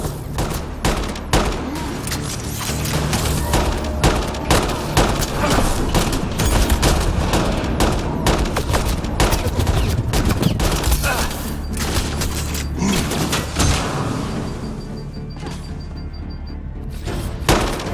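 Sustained gunfire and a grenade blast in a Mass Effect: Andromeda firefight, dense rapid shots and heavy thuds filling the scene loudly, with a few shouted voices briefly mixed in.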